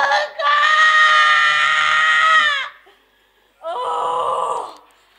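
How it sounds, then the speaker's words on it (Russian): A woman screams loudly and at length during an aggression-release therapy session, a long sustained cry followed by a pause and a second shorter scream. "Крикни, сука, давай"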